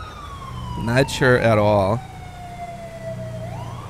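A police car siren in the video game GTA 5 wails in a long steady tone that falls slowly and then begins to rise again, while someone talks briefly over the start.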